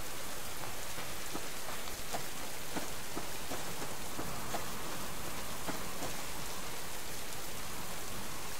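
Steady, heavy rain in a video game hisses continuously, a dense even wash with scattered individual drops tapping through it.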